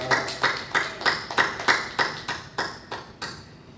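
A church congregation at a Wednesday worship service claps in steady unison, about fourteen evenly spaced, crisp claps that hold a regular beat and then fade out at the end.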